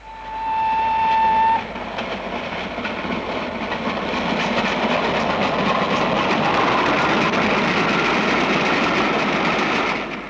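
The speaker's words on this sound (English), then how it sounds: "Trains were always great fun to film" A train passes in old footage, a brief horn tone at the start giving way to a loud, steady rush and rattle of wagons rolling by close, with no talking.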